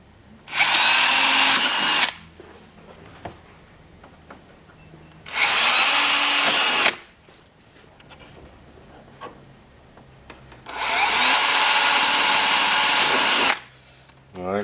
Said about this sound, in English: just pop a little hole in there anyway, so it'll help the actual cone to cut through easily